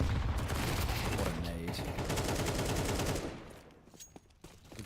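Gunfire and a grenade blast in Counter-Strike on Dust 2 during a pro match between B8 and 3DMAX, including a Mac-10. Dense, loud bursts of shots fill the first seconds, then thin out, with a commentator talking over them.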